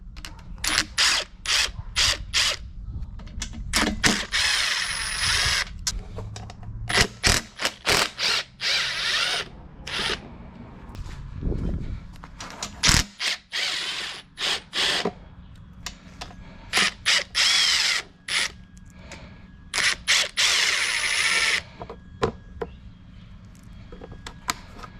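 Ratchet wrench clicking in quick bursts while 8mm bolts come off the cover of a Harbor Freight 8-gallon air compressor, close and crisp with short pauses between runs of clicks.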